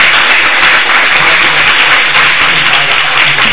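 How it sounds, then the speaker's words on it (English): Loud, steady audience applause for a food documentary panel at UCLA, a dense wash of clapping with no pauses. "applause for the panel"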